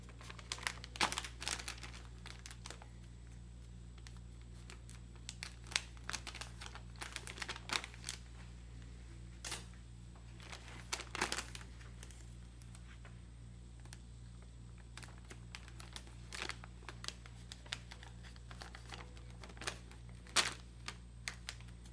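Indicator tape and a surgical drape are handled up close. Scattered crinkles, sharp tape clicks and soft rustles are irregular and fairly faint, with no talking.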